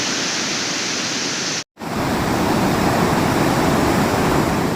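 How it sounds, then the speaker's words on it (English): Rushing river water in sunny mountain country on the route from Kasol to Tosh, a dense, steady roar of flowing current heard close, broken once by a brief cut to silence before resuming louder. "In this sunshine and hustle bustle sounds of river"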